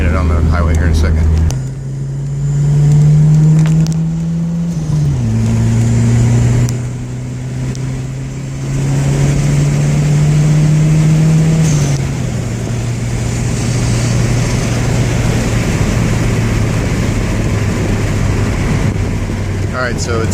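A Toyota Celica GT4 ST205 engine pulling hard on a highway under turbo boost, a loud steady drone climbing in pitch through gear changes, heard from inside the car with someone talking over it.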